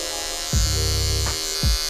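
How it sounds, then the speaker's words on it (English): An electric hair clipper with a guard hums steadily while cutting a man's shag haircut, close and loud, its pitch dipping briefly with each stroke through the hair. "how the strokes of the clipper get shorter and shorter the further down the guards that we go"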